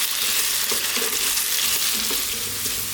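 Diced potatoes fry in a pan on lively heat for corned beef hash, with a steady loud sizzle and occasional scraping stirs throughout.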